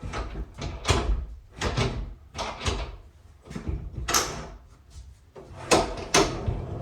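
Repeated wooden door knocks, scrapes and bumps as a pocket door is worked into its frame, coming in short bursts with brief pauses between.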